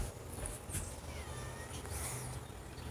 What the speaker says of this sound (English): You see those cats out there?